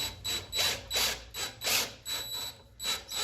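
A power drill with a 7/8 inch socket raises a motorcycle lift, whirring in repeated short bursts, about six pulses with brief pauses between, close and fairly loud.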